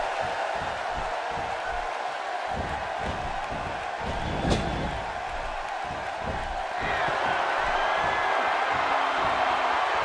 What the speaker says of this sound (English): Another great crowd here in St. Louis.